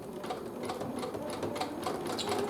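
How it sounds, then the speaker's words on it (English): A sewing machine embroiders a design in a workshop. It gives a steady, rapid mechanical chatter of stitching that runs unbroken and fairly quiet throughout, with no talking. "it's just going to sit there and embroider, and it's going to make our little embroidery"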